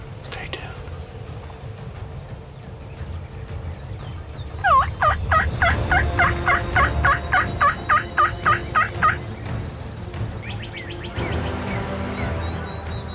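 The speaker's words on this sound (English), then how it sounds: "I've got birds gobbling within 100 yards" Wild turkeys gobbling in the early morning, a run of rapid rattling gobbles mid-distance followed by a fainter burst later, with a quiet whispered voice and soft ambient rustle.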